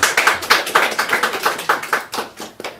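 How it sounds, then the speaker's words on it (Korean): Rhythmic clapping from a church congregation during a sermon, sharp, close hand claps landing in a steady beat of about four per second and briefly trailing off near the end. "박수 한번."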